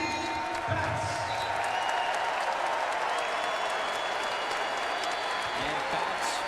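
Sustained crowd applause at a Providence vs. Louisville college basketball game, a standing ovation for a player leaving the court, dense and steady for the full stretch with a commentator talking over it.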